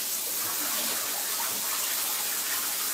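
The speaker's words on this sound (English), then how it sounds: "turn off the shower" A running shower gives a steady, loud hiss of spraying water, unbroken for the whole stretch and with no voices.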